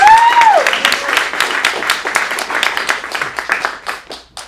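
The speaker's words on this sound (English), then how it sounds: "Tyler, let's give him a round of applause." An audience at an adult acting showcase in Phoenix breaks into warm applause for a performer, a dense burst of clapping that thins out toward the end, with a whistle at the start.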